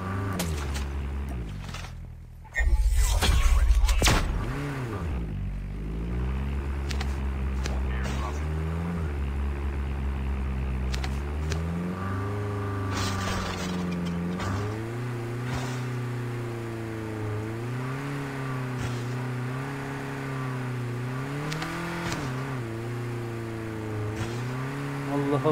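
A car engine in a video game revs and shifts repeatedly, its pitch rising and falling in waves over a sustained drone, with a brief loud impact burst near the start and no speech.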